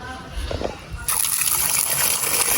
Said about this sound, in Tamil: தண்ணி விட்டு கழுவுங்க உயர்த்தி மேலே பிடிங்க இதை